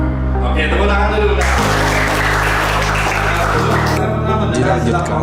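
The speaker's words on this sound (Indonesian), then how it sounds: "Oke, tepuk tangan dulu." A crowd at a school education event breaks into applause, a dense burst of clapping in the middle of the clip over steady background hum and voices.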